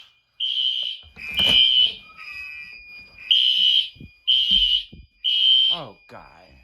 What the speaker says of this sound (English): and my alarms are going off.